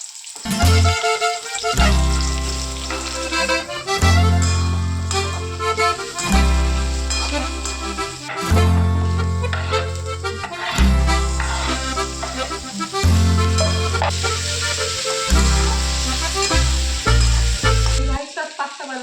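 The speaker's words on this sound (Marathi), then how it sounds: "इथे मी कढई ठेवली आहे आणि आता त्याच्यामध्ये आपण तेल टाकलं. आता कांदा टाकू." Onion frying in oil in a kadhai (wok) while pasta is being prepared in a home kitchen: a steady, close sizzling hiss runs throughout, layered under fairly loud background music with strong rhythmic bass.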